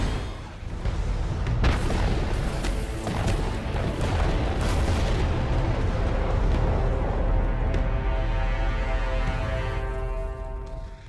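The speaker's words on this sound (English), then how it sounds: "Missile launch detected." Missile launch in the Homeworld: Deserts of Kharak game, a heavy rumbling roar with booming blasts and crackling bursts, loud and continuous for several seconds before tapering slightly.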